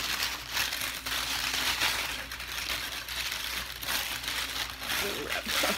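Plastic wrapping on cosmetics from a beauty haul crinkles and crackles steadily and close up, with continuous rustling bursts throughout.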